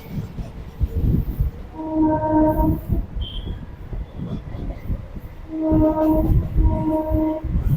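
A Sealdah–Dankuni local train pulls out of Baranagar station, a steady rolling rumble with two loud horn blasts, heard from on board with faint talk in the background.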